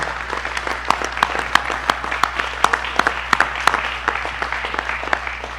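Audience applause for National Guard and DOT crews at a Long Island storm briefing, steady dense clapping with sharp individual claps standing out, sustained throughout at moderate volume.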